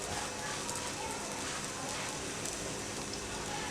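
Burger buns, both halves cut side down, sizzle on a hot tawa with a little oil, a dense, even crackling fry that stays steady and close for a few seconds with no speech over it.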